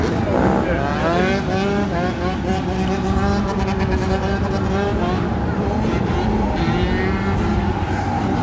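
Street dirt bike engines rev and rumble continuously in Baltimore, loud and close with rising and falling pitch, under crowd noise and talking voices.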